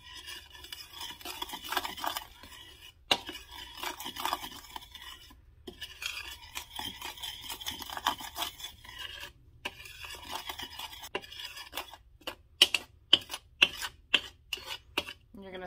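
Cocoa powder is mixed in a bowl with a utensil, giving repeated scraping and rubbing strokes against the bowl, then a run of sharper clinks and taps near the end.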